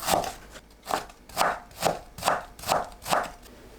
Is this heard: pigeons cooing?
no